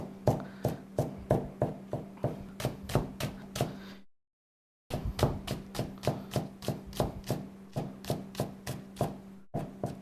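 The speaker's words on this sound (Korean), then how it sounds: "통마늘을 다져주는 이유는 향이 더 좋기 때문에" Whole garlic cloves minced with a knife on a cutting board, a steady run of sharp, close chopping knocks at a brisk even rhythm, broken by a short silent gap, with no talking.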